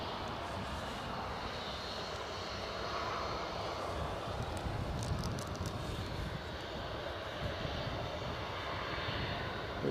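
Aircraft engine roaring steadily and loudly for the whole stretch at Newcastle Airport in snowy, gusty crosswind conditions, a broad continuous rumble with wind noise and no talking.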